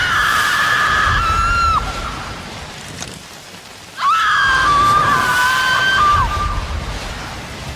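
A processed, electronically treated scream from the video game Life is Strange: Before the Storm, a loud sustained shriek in two long bursts with a brief drop between them, layered over a heavy rushing noise bed.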